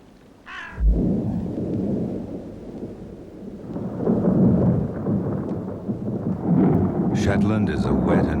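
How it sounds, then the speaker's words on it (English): A thunderstorm with rain sweeps the Shetland islands, with deep rolling thunder over steady rain, a voice talking throughout and a crow cawing nearby. "The islands are drenched by frequent storms sweeping in from the Atlantic."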